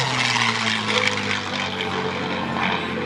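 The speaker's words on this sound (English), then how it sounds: "licensed built version of the Rolls-Royce Merlin." A P-51D Mustang with a licence-built Rolls-Royce Merlin engine roars past at an airshow, a loud, steady propeller drone with a strong low engine hum and no talk.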